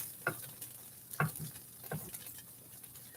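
Tofu pieces fry in a pan and are flipped one by one, giving a quiet steady sizzle broken by a few soft taps and scrapes at irregular intervals.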